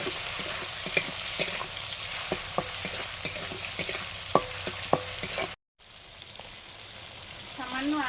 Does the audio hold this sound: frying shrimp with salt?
yes